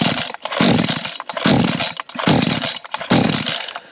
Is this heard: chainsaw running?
yes